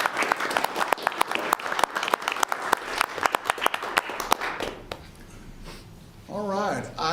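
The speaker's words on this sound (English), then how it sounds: "Let's give them a round of applause." Applause at a city commission meeting: close, crisp claps from a small audience for about five seconds, then thinning out as a voice starts speaking.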